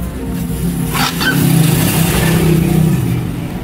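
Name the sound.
motor scooter engine starting with starter and revving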